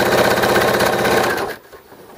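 A sewing machine runs at a fast, even buzzing rhythm while top stitching fabric pads, close and loud, then stops abruptly and leaves near silence.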